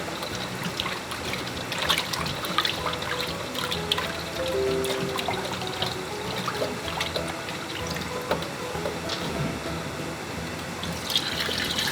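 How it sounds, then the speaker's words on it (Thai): Catfish are rinsed in several changes of salted water, a steady close splashing and trickling with sloshing and dripping throughout and no talking. "เราล้างสักประมาณ2-3น้ำนะคะจนกว่า น้ำที่ล้างปลาจะใสนะคะ"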